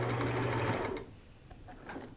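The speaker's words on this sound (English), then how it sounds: "I'm tacking it with my sewing machine and not with the needle and thread" A domestic sewing machine runs briefly, stitching a small zigzag tack on a fabric turban, a close, steady mechanical whir lasting under a second before stopping into quiet room tone.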